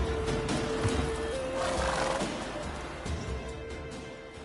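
Roach the horse in the Witcher 3 video game whinnies loudly mid-clip while hooves clatter and thud rhythmically in a gallop throughout, close and forceful.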